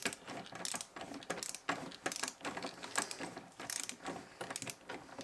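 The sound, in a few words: ratchet tightening bolt on Lotus Elan M100 A-post panel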